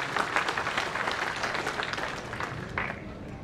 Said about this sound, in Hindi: आप सभी का शानदार तालियों से स्वागत अभिनंदन।